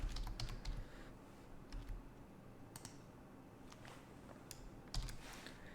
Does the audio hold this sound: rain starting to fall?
no